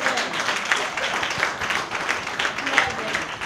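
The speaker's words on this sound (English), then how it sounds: "applaud our young people" A church congregation applauds young people, with sustained, fairly close clapping from many hands continuing steadily throughout.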